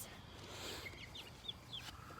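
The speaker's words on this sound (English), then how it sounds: "I get this chicken" A chicken clucks in a few short, faint calls over steady low background noise, with no talking.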